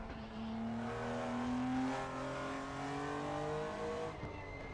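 A BMW M1 Procar race car in Assetto Corsa revs hard and close, its engine note climbing and shifting through the gears in a loud, continuous wail, with a brief dip near the end.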